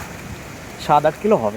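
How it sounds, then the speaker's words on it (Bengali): Rain falls on a pond in a steady, soft patter that runs through the whole stretch, while a voice speaks briefly over it near the end. "বৃষ্টি শুরু হয়ে গেছে, দেখো পুকুরে জল পড়ছে, বৃষ্টি শুরু হয়ে গেছে।"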